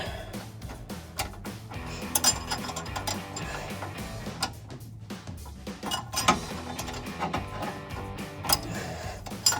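A hand ratchet clicks in rapid, uneven bursts while tightening sway bar end link bolts on a Toyota 4Runner, close and clear, with short pauses between strokes and no talking.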